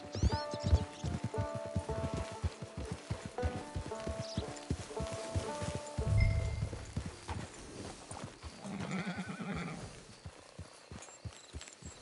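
In Red Dead Redemption 2, a horse walks at an even pace, its hoofbeats forming a soft, regular clip-clop, with a brief deeper thud and faint game music underneath.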